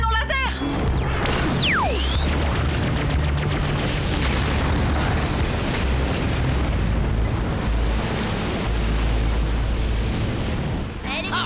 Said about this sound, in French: Il a actionné le canon laser.